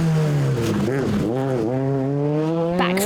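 Ford Fiesta R2 rally car on a tarmac stage of the Galway International Rally, engine note rising and falling through gear changes as it passes close by, loud and continuous.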